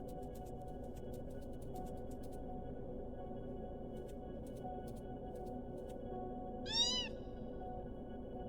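A single rising-and-falling cat meow sounds from the video game Copycat, set against a steady low background hum with faint ticking noises earlier on.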